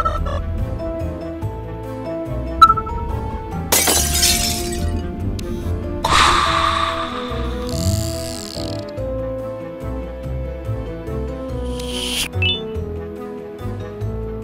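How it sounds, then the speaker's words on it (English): A small drone smashes a glass window in an animated game, with several sharp bursts of shattering glass and tinkling shards spread over the scene, alongside clicks and mechanical game noises. "You mind busting this glass window and grabbing that key card?"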